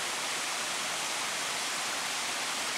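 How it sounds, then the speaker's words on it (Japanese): The Asuka River flows near its meeting with the Fuyuno River in rural Asuka village, a dense, even rush of water that stays loud and close throughout with no voices. "これは飛鳥川ね。"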